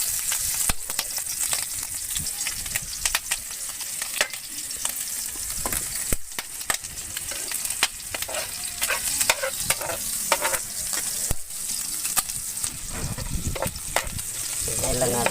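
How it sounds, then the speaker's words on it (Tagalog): Garlic and onion frying in a pan for Bicol-style dinuguan with coconut milk, a steady crackling sizzle lasting throughout with repeated scraping stir strokes of a utensil against the pan, close and fairly loud, no talking. "Ilalagay na natin ang bawang at sibuyas."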